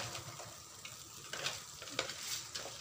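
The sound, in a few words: cooking crab in red sauce, frying and stirring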